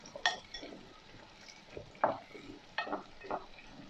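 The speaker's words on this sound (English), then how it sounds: "Just stir it for 10 minutes just to get all the flavors." Stew with garlic, chili and star anise being stirred in a pot, a spoon scraping and clinking against the metal in a few scattered, fairly quiet strokes with no voices.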